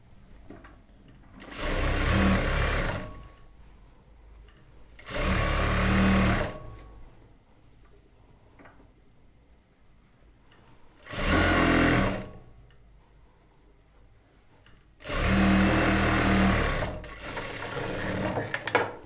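A sewing machine stitches two churidar top sleeves together in four loud runs of steady mechanical whirring, each a second or two long, separated by quiet pauses.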